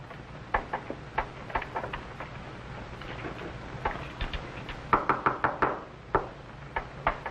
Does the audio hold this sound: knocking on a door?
yes